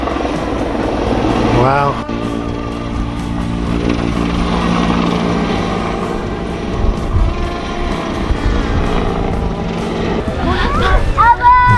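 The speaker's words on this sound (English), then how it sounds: "We got a helicopter taking off right here." A helicopter takes off at a harvest festival farm, its rotor and engine whir building loud and close over the crowd's ambience, with a person briefly exclaiming.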